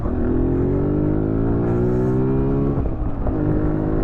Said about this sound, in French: j'ai voulu mettre un petit peu de gaz et franchement honnêtement ça le fait pas mal